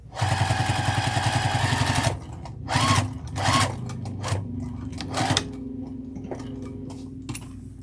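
A sewing machine stitching across the bottom of a fabric crossbody bag, first in a steady two-second run of rapid close clatter, then several short bursts with quiet pauses between.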